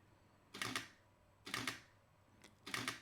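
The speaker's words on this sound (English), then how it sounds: "So the only con to this is the shutter is louder." Three separate shutter actuations from a Canon EOS R with silent live view switched off, each a close, crisp double click, spaced roughly a second apart in a quiet room.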